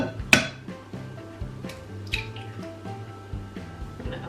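An egg dropped into mashed bananas and sugar in a bowl for banana muffin batter, a sharp crack-like tap followed by soft wet squishes and quiet mixing clinks, close and fairly faint.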